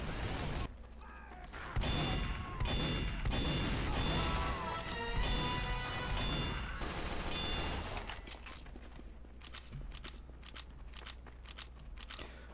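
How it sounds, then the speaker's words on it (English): Gunfire in the video game Team Fortress 2, a dense burst of rapid shots and impacts over the first several seconds that then thins to scattered quieter cracks, with some speech mixed in. "someone's shooting at me?"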